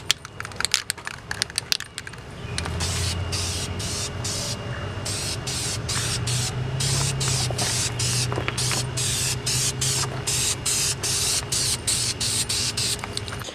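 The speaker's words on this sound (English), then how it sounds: "now I'm just putting on some clear lacquer. This is a semi-gloss spray can." A spray can of semi-gloss clear lacquer hisses steadily for several seconds after a few clicks and rattles, continuous close-up spraying with brief pauses.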